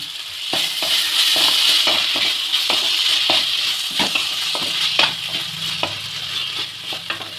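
A fried snack is stirred with sauce in a pan, giving a bright frying sizzle with repeated sharp clinks and scrapes of a spatula against metal at an irregular pace, close-up and without talk.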